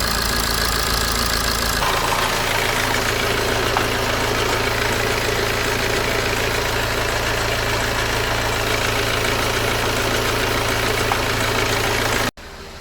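A BMW 120d with an N47 diesel engine idles roughly with a suspected bad dual mass flywheel, a constant low rumbling drone with a knocking undertone that runs steadily before cutting off abruptly near the end.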